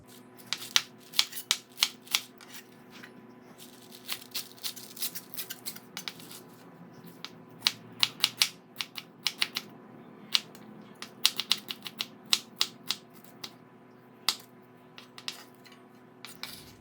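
Knife chopping choy sum leaves on a cutting board, a run of sharp, close, irregular taps and slices, some in quick bursts, alone with no talking.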